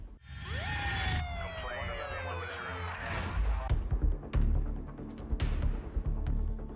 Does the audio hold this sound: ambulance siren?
yes